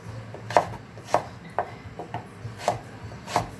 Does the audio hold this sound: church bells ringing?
no